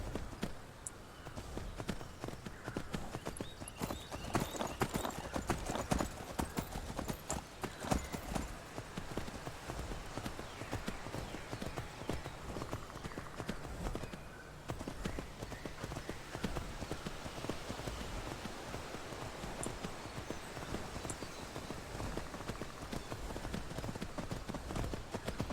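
Rapid, continuous clip-clop of horse hooves in a video game, a steady galloping rhythm that runs on without pause, crisp and close.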